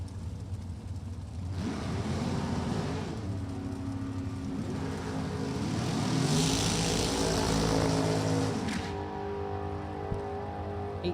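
A 622 cubic inch Chevrolet drag racing car roars down the strip at a Maple Grove Raceway NHRA event, the engine rising to a loud sustained blast and then cutting off abruptly, with no talk over it.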